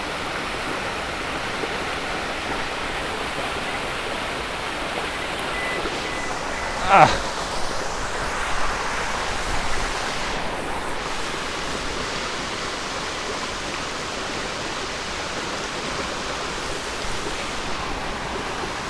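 Steady broadband rush of water pouring over a waterfall, continuous and even throughout, with a brief louder burst near the middle and no talk over it.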